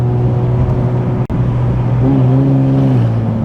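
An Infiniti Q60 engine with upgraded turbos idles with a deep, steady rumble, then revs with its exhaust valves open, holding a higher, louder drone before dropping back down.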